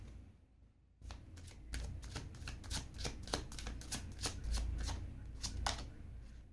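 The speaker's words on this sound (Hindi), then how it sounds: "ये मैं दोबारा से शफल करूँगी." A deck of tarot cards is shuffled up close in a run of quick, crisp riffling flicks that last several seconds in a quiet room.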